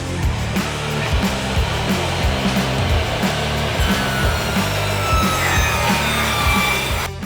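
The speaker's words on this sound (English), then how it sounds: "Let's crank up the saw and cut some wood." A table saw rips through 1x4 wood boards, giving a loud, continuous whine with a pulsing low rumble that holds steady for several seconds, close and alone with no voices.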